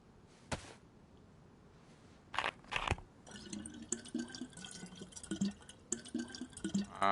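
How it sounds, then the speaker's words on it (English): Flowing, trickling water in the DayZ video game, a steady liquid babble with occasional drips and clinks, moderately faint and heard alone without talk. "They changed the noise of the water."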